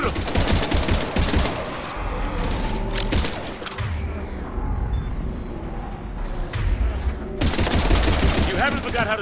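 Rapid gunfire in Mass Effect Andromeda, sustained bursts of automatic shots in a firefight against husks, loud and close with mechanical clanks, with voices shouting at times over the shooting.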